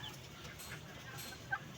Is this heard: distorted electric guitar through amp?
no